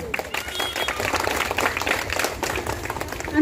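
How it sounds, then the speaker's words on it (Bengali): An audience claps in a burst of applause to welcome a cabinet minister at a 25th annual Durga Puja celebration in Barpeta Road, Assam, with crowd noise and a voice partly heard over it. "আপনাদের সকলকে জানাচ্ছি একটি হাততালি দিয়ে ওনাকে ওয়েলকাম করুন।"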